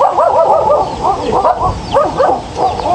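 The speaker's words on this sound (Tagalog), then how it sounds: "May aso." A dog barks and yips repeatedly at close range, sharp rapid bursts with brief whimpering between them.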